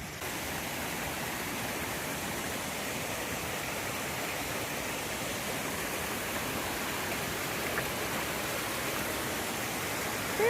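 Creek water flows steadily beneath a trail bridge in a mountain forest, a continuous even rushing wash that stays constant and moderately close with no talking.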